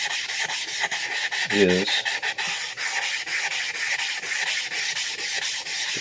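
A nagura stone is rubbed back and forth across a wet whetstone while sharpening a vintage Clyde Cutlery chef knife, a close, steady gritty scraping in repeated strokes, with a brief voice cutting in once.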